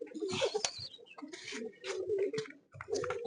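Pigeons coo and murmur close by in a racing-pigeon loft, several birds overlapping in soft throaty bursts with brief gaps between calls.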